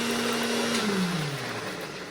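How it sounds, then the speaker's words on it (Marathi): A mixer grinder motor whirs steadily, its pitch sliding downward as it winds down, a grinder-like hum filling the whole moment. "दोन तीन मिनटं मिक्सरमध्ये लावायचं आता परत नीट वाटून घ्यायचं"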